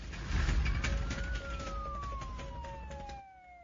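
A police car siren in a drama, wailing near and loud with a falling tone over a low rumble of traffic, fading slightly at the end with no voices.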